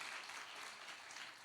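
Sustained applause fills a church young-adult worship service as the congregation welcomes new members, a dense, even wash of many hands clapping throughout with no talk.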